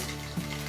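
Mustard seeds and cumin sizzle briefly in hot oil for a tamarind chutney tempering, a short, steady hiss with one small pop.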